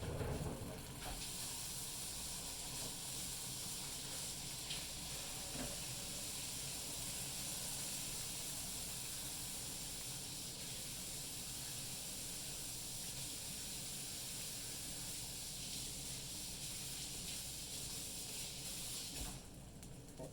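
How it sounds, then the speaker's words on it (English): Burger patty sizzling on a hot griddle, a steady broadband hiss holding level and close for the whole stretch, with no talk over it. "now you see it sizzling a little bit"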